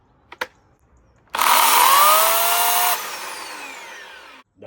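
A Lidl Parkside electric chainsaw whirs up abruptly after a couple of faint clicks, screams at full speed for about a second and a half, then winds down quickly and fades out, with nobody talking.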